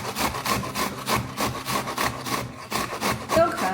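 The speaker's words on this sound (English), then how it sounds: "just half of a red onion, white onion, yellow onion, whatever you have, and just grate it" Half an onion (red, white or yellow) is grated on a kitchen grater, giving steady rhythmic rasping strokes, close and fairly loud, repeating about twice a second with no talking.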